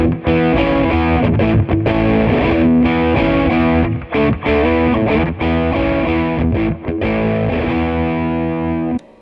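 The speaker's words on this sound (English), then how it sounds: "So we go gain all the way up, volume all the way up on the drive channel." A Roland Blues Cube amp on its drive channel, gain and volume fully up, plays a heavily distorted guitar: sustained crunchy chords with brief gaps, loud and close, with no talking.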